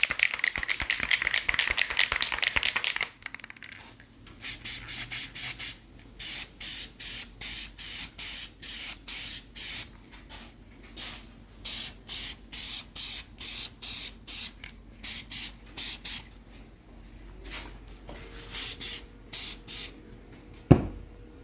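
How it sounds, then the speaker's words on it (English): Clear coat sprayed from an aerosol can onto a color-matched Ford F150 bumper: a long hiss, then many short rhythmic bursts of spray with can rattling between them, close and loud. "now we're gonna put some clear coat on it just to protect it a little"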